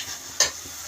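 Curd is stirred into a tomato masala in an oily pan while okra waits to be added, one quick scrape over a faint background sizzle.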